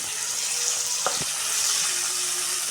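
Onions, green chillies and tomatoes sizzling in a pan for egg curry, a steady hiss of frying that runs throughout, with a couple of brief clinks of a utensil against the pan partway through.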